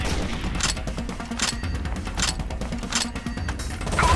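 Several sharp gunshots ring out at a steady pace, roughly one every three-quarters of a second, over a constant rumbling background in the video game Tom Clancy's Rainbow Six Vegas.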